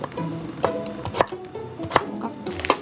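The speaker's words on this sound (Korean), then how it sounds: "좀 얇게 썰어도 되긴 하는데 깍둑." A knife dices potatoes on a cutting board in a series of crisp, irregular chops, close and fairly quiet, with no talking.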